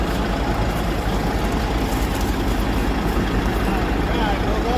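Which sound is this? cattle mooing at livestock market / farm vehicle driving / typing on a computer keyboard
farm vehicle driving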